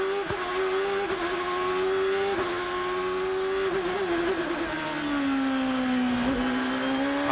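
Onboard engine of the CDW number 9 Champ Car at the 2006 Tecate Grand Prix of Monterrey: a loud, sustained high-pitched engine whine that holds steady, dips briefly on shifts, then settles lower toward the end.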